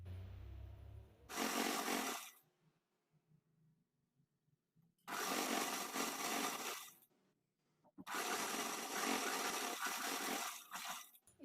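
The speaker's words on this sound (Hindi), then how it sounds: "अब हम इसे स्टिच करते हैं।" Sewing machine stitching fabric for cigar-style trousers, running in three separate bursts of a couple of seconds each, separated by quiet pauses, close up.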